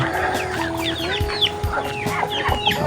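Chickens cluck and squawk repeatedly in a busy barnyard chorus, close by, with a rooster-like call and a steady hum beneath.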